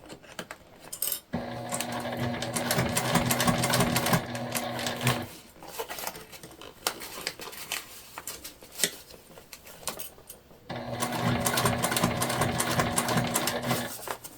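A sewing machine runs in two long bursts of steady, continuous stitching through flat fabric for a crossbody bag, separated by a quieter pause with faint handling clatter; close and fairly loud.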